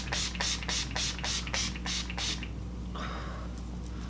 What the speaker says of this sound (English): I'm going to spray my face with my Urban Decay setting spray.